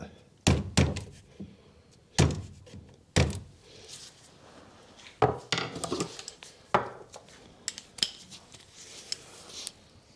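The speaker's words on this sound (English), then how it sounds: "use the handle and just make sure it's tapped down" Several sharp wooden knocks from a small hammer's handle tapping a car battery down in a 2005 Skoda Fabia 1.2 petrol land at irregular intervals, close and fairly loud, with lighter taps and rustling between them.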